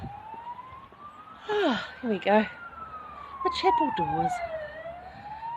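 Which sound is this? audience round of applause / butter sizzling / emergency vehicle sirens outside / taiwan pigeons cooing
emergency vehicle sirens outside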